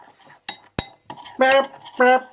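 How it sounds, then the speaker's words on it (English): A utensil clinks and scrapes against a bowl while stirring a chicken wing rub sauce, with a couple of sharp knocks followed by brief tonal clinks, close up with faint background voice. "So now stir it up."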